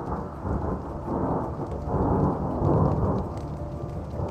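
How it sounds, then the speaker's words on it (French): Rain beginning to fall on a hiking trail in the mountains, a dense steady patter mixed with low rolling thunder that swells and rumbles continuously, no voices. "Bon, ça y est, il commence à pleuvoir."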